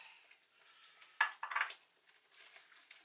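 A spoon clinks and scrapes briefly against a pan while king prawns and peas are stirred in a curry. The sound is a few quiet metallic knocks in near silence.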